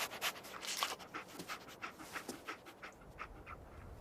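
A dog pants in quick, breathy huffs, steady and close, in the Fallout 4 video game, with no voices.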